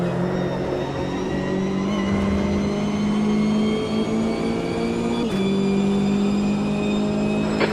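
Race car engines in the Automobilista 2 racing sim drone loudly and steadily, one engine pitch dipping as a faster car closes in and passes.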